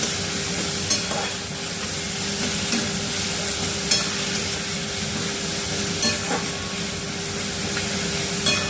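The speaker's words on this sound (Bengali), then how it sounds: "পেঁয়াজটা খুব লাল করে ভাজবো না, একটু নরম হবে, হালকা হালকা বাদামি রং ধরবে" Sliced onions frying in oil in a pan for a Bengali potato chop, a steady close sizzle with occasional stirring scrapes and light crackles, no talking.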